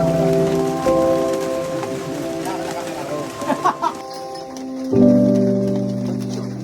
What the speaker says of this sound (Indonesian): kabut pun naik dan disambut dengan hujan yang cukup banyak